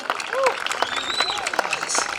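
Crowd applause at an outdoor Juneteenth celebration in Woburn, with clapping and cheering and whistle-like calls. A fairly steady burst runs the whole moment, with voices mixed in.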